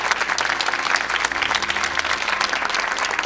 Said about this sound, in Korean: 우리 서로에게 박수